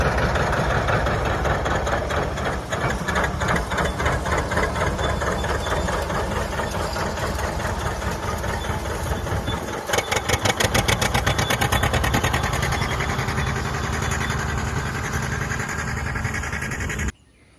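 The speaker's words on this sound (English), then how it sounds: "that tractor just lugs down and it'll sit there and idle in 5th gear" A John Deere 830 two-cylinder tractor idles in 5th gear while pulling a hay rake. Its steady, loud, low engine chugging runs throughout, with a rhythmic pulsing beat that grows more pronounced midway before cutting off abruptly at the end.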